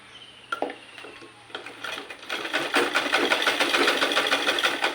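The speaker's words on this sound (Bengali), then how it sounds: "আমি সেলাই করে নেব।" Sewing machine stitching strips of fabric, a few clicks at first, then starting up into a steady rapid whirring clatter that builds and runs continuously, close by.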